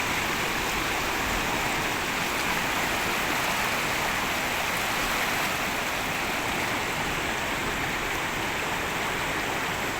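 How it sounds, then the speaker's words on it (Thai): Strong floodwater of the Mun River rushing through a small breach beside a washed-out road, a loud, constant roar of flowing water close by with no talk. "มวลน้ำไหลแรงมากแม่น้ำมูลนะครับ"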